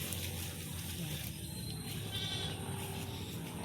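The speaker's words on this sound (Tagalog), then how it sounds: "Ito yung mataba-taba namin kambing" A goat bleats on a farm, fairly faint among steady outdoor background noise.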